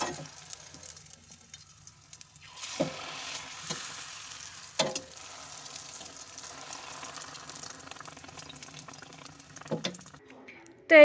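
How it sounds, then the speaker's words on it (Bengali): Fuchka (pani puri) shells fry and puff in hot oil, giving a steady sizzle with occasional sharper crackles and bubbling bursts, close and moderately loud, with no talking over it. "আমি নিচেই দিয়ে এই যে ফুচকাটা ভাজি করে নিচ্ছি। দেখতে পাচ্ছ ফুলছে না?"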